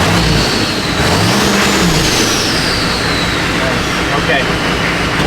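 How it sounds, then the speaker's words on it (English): A diesel truck fitted with a cheap eBay turbo, loud and close, running with a dense broadband roar and a faint rising whistle, with a voice mixed in under the engine. "You guys can hear that turbo."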